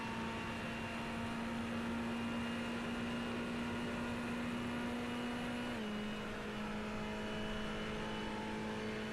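A Ferrari V8 turbocharged engine in a racing game on the Daytona oval, a steady, high-pitched drone held at constant revs, with one slight pitch drop partway through, alone with no talk.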